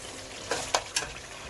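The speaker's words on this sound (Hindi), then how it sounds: "जो बुनाई है वो हमेशा हाई फ्लेम पे होती है।" Chicken for white karahi fries on a high flame, a short burst of loud sizzling with a few sharp crackles and stirring scrapes close up.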